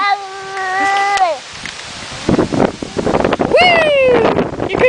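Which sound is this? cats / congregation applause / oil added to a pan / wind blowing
wind blowing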